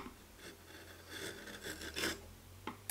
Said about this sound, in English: First, I remove some wood with my chisel to make a 45-degree-ish bevel